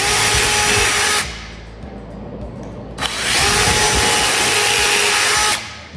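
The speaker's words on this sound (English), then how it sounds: "we're going to take and drill a pilot hole in each of these" A power drill bores pilot holes through a door jamb for a strike plate, two loud sustained whirring bursts about a second and two and a half seconds long, separated by a short quiet pause.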